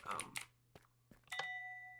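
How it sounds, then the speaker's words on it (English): Minecraft note block doorbell in a video game: a few clicks and short taps, then a two-tone chime that rings out and sustains to the end, with faint speech early on. "It's a doorbell."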